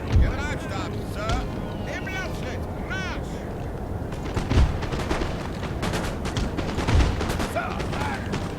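Musket volleys boom and crackle across a Napoleonic battlefield in the strategy game Napoleon Total War. Volleys of gunfire come in scattered bursts beneath continuous talk, with a few heavier thuds standing out.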